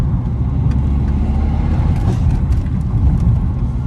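Stage 2 tuned BMW 120d driving through town, heard from inside as a steady low engine and road rumble, fairly loud, with a few faint knocks.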